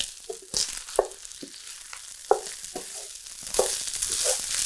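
Fried rice is mixed into eggs still cooking in a hot pan, making a close scraping sizzle with irregular knocks of the utensil against the pan, and the frying grows louder toward the end.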